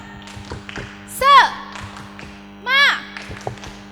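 Light patterned clapping from a children's Sunday school spirit cheer ticks along in short bursts, interrupted twice by a long, loud chorus of young voices shouting together.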